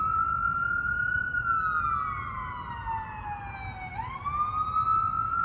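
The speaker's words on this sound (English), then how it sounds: "I've been hearing a lot of sirens these days, so I guess that's another one of them." An emergency siren wails steadily, its pitch sliding down slowly and then swinging back up, heard alone at moderate distance.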